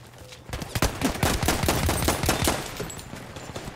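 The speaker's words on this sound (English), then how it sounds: "Bullets are coming over here." Rapid, close bursts of rifle and machine-gun fire in the World War I shooter Battlefield 1 at Argonne Forest, a dense rattling stream of shots lasting several seconds.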